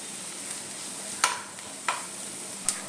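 Crushed dried red chili stirred in a hot pan, a steady soft sizzle broken by three sharp scraping strokes of the spoon, close and moderately quiet with no talking.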